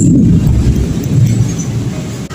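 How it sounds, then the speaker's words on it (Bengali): Deep thunder rumbles outside ahead of a rainstorm, a loud, low, rolling roar that fills the moment and slowly eases off. "আর বাইরে তো মেঘ গুরুম গারুম যা আওয়াজ করছে"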